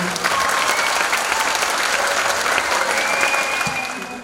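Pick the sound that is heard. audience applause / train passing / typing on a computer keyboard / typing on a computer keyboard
audience applause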